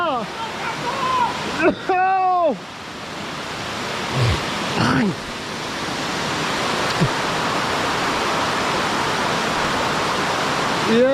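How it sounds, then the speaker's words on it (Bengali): Dhuppani waterfall roars as a broad, steady wash of falling water, growing fuller and louder over time, with people talking briefly over it near the start. "দেখেন আমরা কোথায় ও দুপ পানি ঝর্ণা"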